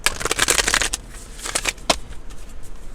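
A tarot card deck is shuffled in quick riffling bursts, a close crisp flutter of cards followed by a few shorter shuffles and taps.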